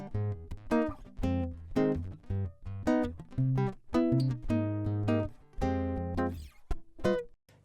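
Acoustic guitar recorded through a direct line input, with plucked notes and chords in a steady rhythmic pattern, close and dry with a thin, bright tone, heard alone without talking.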